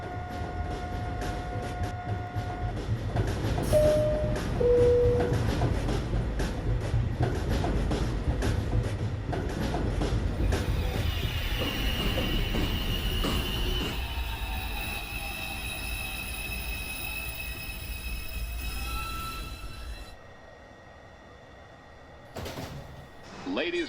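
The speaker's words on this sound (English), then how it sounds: "Train approaching the station." A subway train pulls into Rector Street station with heavy rumbling and squealing wheels, then slows and stops, brakes hissing and doors sliding; automated announcements and voices carry over the platform noise.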